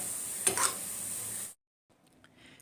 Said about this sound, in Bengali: এবার আঁচ কমিয়ে আমি নাড়ুগুলো ভেজে নেব।